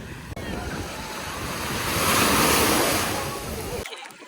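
Sea waves roll onto a beach in strong wind, a broad rushing surf that swells to a peak midway, with wind buffeting the microphone before it cuts off abruptly.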